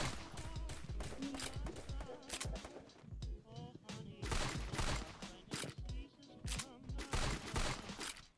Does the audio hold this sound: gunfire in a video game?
yes